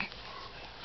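A six-week-old Jack Russell puppy sniffs close up, a short steady snuffling breath over a soft broadband hiss that lasts under a second.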